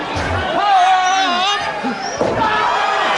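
A wrestler is dropped onto the mat in a base-of-the-spine drop, and the thud lands amid loud crowd noise, with a commentator talking over the arena din.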